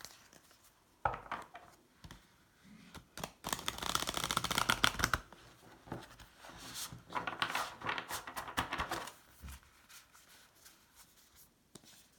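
A deck of oracle cards shuffled by hand in quiet, soft riffling bursts with pauses between them, with no voices.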